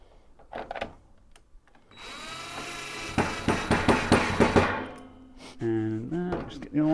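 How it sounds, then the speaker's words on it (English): A power drill driving a screw into a desk frame, with the bit bumping and chattering against the screw in a rapid series of loud knocks over a whirring motor, with people talking before and after. "I'm letting the drill bit bump in the screw on purpose"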